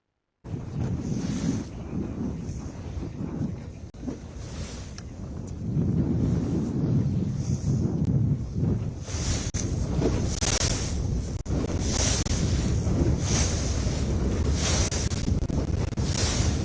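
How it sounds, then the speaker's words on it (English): Steady wind and open-water wash around a media boat during the final day of a lure fishing tournament, with continuous wind buffeting on the microphone and waves, growing slightly louder partway through, no talk. "We are now live from the media boat."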